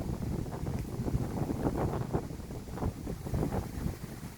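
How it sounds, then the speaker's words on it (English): Wind blowing through century-old eucalyptus trees, a steady outdoor rush with gusty swells and some microphone buffeting, loud and continuous throughout with no talk. "how beautiful is the sound of the wind in the trees"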